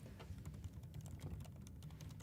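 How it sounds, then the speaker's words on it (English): Rapid, furious typing on a computer keyboard, fast irregular key clicks running continuously for a couple of seconds, fairly faint and with no talking. "furiously typing"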